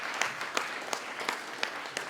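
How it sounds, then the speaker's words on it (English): An audience at a stigma awareness event claps steadily, a soft wash of many hands with a few sharper claps standing out, heard at a distance and with no talk. "Why don't you guys give yourself a round of applause?"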